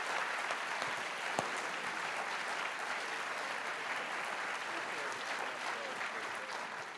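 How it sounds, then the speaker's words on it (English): A chapel audience applauds its guests with dense, continuous clapping that holds steady for several seconds, loud and close. "Let's give a round of applause to our guests here today."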